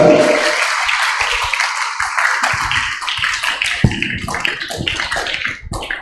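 An audience at a church prayer service applauds the priest, with loud, dense clapping from many hands that thins toward the end.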